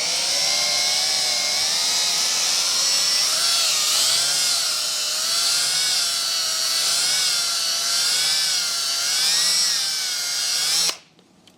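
A power drill spins a plateau brush hone in and out of engine cylinder bores on a Godzilla V8 build, a loud steady whine with slight wavering pitch that cuts off abruptly near the end.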